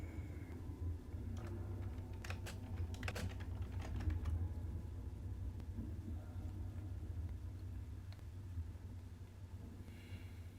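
Keys tapping on a computer keyboard while a command is entered into a terminal, a few quick bursts of clicks over a low, steady rumble of background hum.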